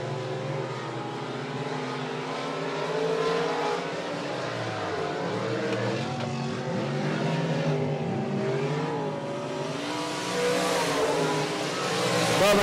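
Stock cars race around the 105 Speedway oval, engines roaring and revving as they sweep past at varying distance, a continuous rising and falling drone with occasional tire squeal and no speech.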